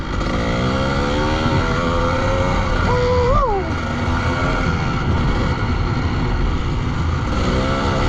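A 1997 Kawasaki KDX 200 two-stroke dirt bike engine while riding, a loud, constant buzzing drone with a brief rev rise and fall midway, close and continuous throughout.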